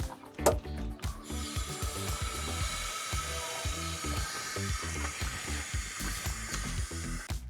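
High- and low-pressure lines on a Nissan 350Z vent into a makeshift container: a sharp pop opens a continuous broadband hiss laced with gurgling, bubbling pulses, close and fairly quiet, with no talk.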